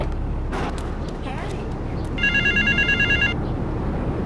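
A telephone rings inside Grand Theft Auto 3 at a park payphone, a short burst of repeated electronic trills over game ambience and background radio chatter.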